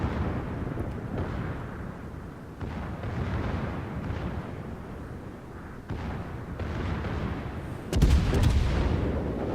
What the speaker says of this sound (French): boum, au canon